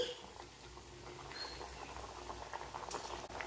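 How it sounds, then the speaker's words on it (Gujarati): Steady soft sizzling and bubbling of dough dumplings (muthiya) frying in hot oil, a continuous faint crackle with small pops throughout. "હવે આપણે એક એક કરીને મુઠિયાને તેલની અંદર મૂકીશું"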